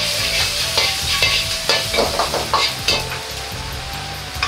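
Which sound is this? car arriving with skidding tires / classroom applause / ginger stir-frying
ginger stir-frying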